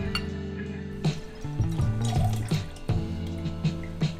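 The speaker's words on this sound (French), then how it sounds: "On vient rajouter notre Cointreau. On va être généreux, on va en mettre 3 centilitres." Cointreau orange liqueur pours into a measure or glass for a margarita, a close trickling liquid sound punctuated by several light glassy clinks.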